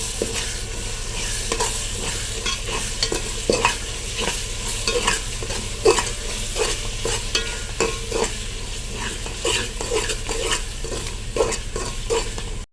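Ginger fries in a pan for Ambur chicken biryani, sizzling while a spoon stirs and scrapes in regular strokes, close and loud without any talking.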